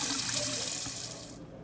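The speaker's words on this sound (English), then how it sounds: "I'm going to rinse them off and get them cleaned" Sweet potatoes being rinsed and scrubbed under a running kitchen tap: a steady, close rush of water that stays loud and even, thinning slightly toward the end, with no voices.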